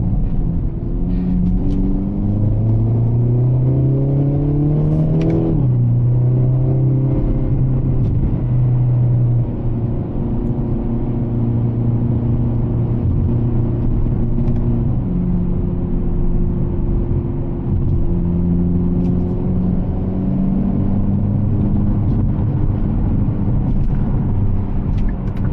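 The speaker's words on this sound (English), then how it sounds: "I think Hyundai did an amazing job with the exhaust note from the factory" A Hyundai Elantra N engine drones close by, its pitch rising as the factory exhaust revs up, then settling into a steady rumbling cruise with small swells in throttle.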